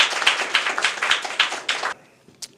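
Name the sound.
audience applause at graduation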